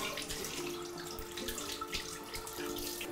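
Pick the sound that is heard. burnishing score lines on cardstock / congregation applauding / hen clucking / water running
water running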